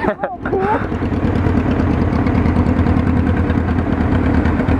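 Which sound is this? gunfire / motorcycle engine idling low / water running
motorcycle engine idling low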